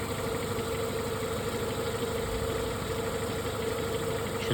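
A Renault Megane 2 engine idling with the car just started, a steady, close, even drone with a faint vibration and no change in pace throughout.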